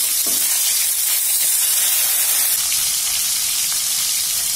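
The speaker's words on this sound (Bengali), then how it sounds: "এটিটাও লাল লাল করে ভাজি করে নেব।" Spiced fish pieces frying in hot oil in a pan, a loud, steady, dense sizzle that holds unbroken throughout, with no voices.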